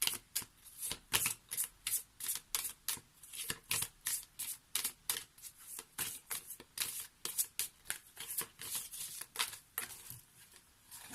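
Oracle cards being shuffled by hand, close and fairly quiet, a steady run of rapid riffling bursts repeating about every half second with no talking.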